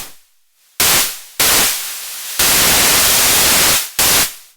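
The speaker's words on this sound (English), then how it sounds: "up to more white like noise" Bursts of harsh white noise switch on and off abruptly, loud and full-band, separated by short silent gaps and decaying tails.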